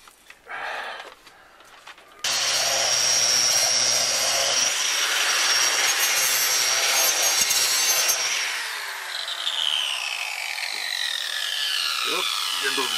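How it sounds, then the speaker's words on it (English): A tool scrapes large flakes of rust off a metal surface, a loud, steady abrasive grinding that runs continuously for about six seconds, eases slightly, then carries on rough and textured. "get those big chunks of rust right off of there"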